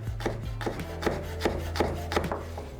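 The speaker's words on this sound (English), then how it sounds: "and then I'm also gonna slice the chili" A knife slices through a chili on a cutting board in quick, regular strokes, roughly two or three per second, close and quiet with no talking.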